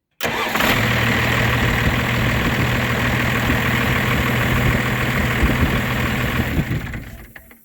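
A 1990 12-valve Cummins diesel cranks briefly on a new starter and fires quickly into a loud, rough, steady idle close by, running several seconds before shutting down and fading out, with no one talking.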